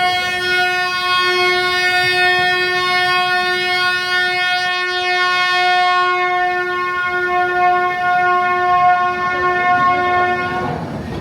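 A long, loud, sustained horn blast from the Ooty train at the station, steady and tonal for about eleven seconds over the rumble of the rail cars, with no talk.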